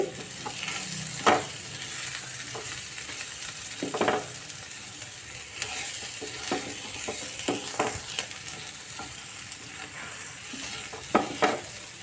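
Crispy taro root (seppankizhangu) coated in flour frying in a little oil, stirred with steady sizzling throughout and several sharp scraping clinks of a spatula against the pan, no talking.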